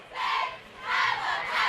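Members of the La Quinta High School varsity and junior varsity cheer teams shout in unison during a Festival of Lights night parade, two loud swelling group cheers rising and falling close by.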